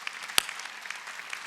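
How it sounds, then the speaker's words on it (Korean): A congregation claps during a Korean Sunday worship service. Sparse, scattered hand claps sound at moderate volume, with one sharp, close clap standing out early. "박수 쳐야."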